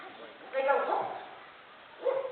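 Voice imitating a big dog barking during a Flamingo Land show, one drawn-out woof followed after a pause by a shorter second one, muffled and moderately loud.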